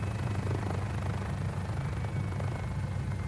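A Mini-500 helicopter in Microsoft Flight Simulator drones with a steady engine hum and rotor chop, muffled and even, with no talk over it.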